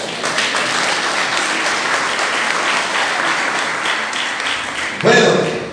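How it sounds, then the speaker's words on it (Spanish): Wedding guests applaud during a church marriage ceremony right after the ring exchange: a sustained, even wash of clapping from a large gathering, ending with a brief voice near the microphone. "Un fuerte aplauso."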